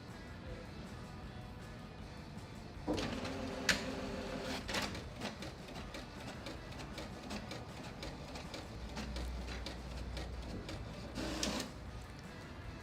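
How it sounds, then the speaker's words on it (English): A printer printing a text document on PaperOne 80 gsm paper, heard as a low mechanical whir broken by louder feed and carriage bursts near the start and again near the end. "Alright, now let's print."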